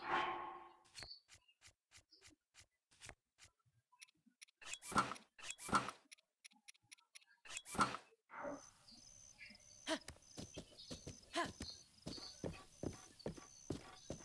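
Hooves of a royal white stallion clip-clop in Zelda: Breath of the Wild, with sharp, crisp steps at a walking rhythm that grow denser and steadier toward the end, close and clear over quiet game ambience.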